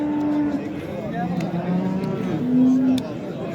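Cattle mooing at a livestock market selling cows and calves, with several long, low moos, one near and loud toward the end, over market background noise.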